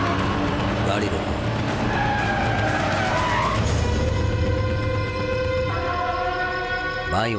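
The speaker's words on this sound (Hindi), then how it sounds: "गाड़ी रोको।" Car braking to a halt with tyres skidding on the road, a loud sustained screech with shifting whining tones under steady engine and road noise, with voices present in the scene.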